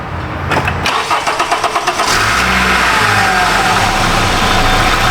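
A Honda Civic with a missing cam signal cranks with rhythmic pulses, catches and settles into a steady idle, the engine loud and close throughout with no talking.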